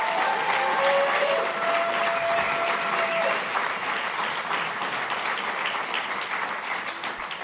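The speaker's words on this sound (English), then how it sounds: "I want us to give an applause for Christians United for Israel." A large audience at an international policy summit applauds steadily for Christians United for Israel, a dense sustained wash of clapping that stays loud throughout and eases only slightly toward the end.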